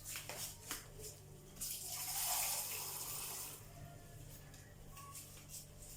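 Water runs steadily into a roasting pan holding a leg of lamb, a soft pouring wash that swells and then eases, fairly faint and with no talk over it.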